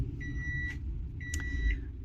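A microwave oven in a home kitchen gives two short electronic beeps about a second apart, each a clean steady tone over a low background hum.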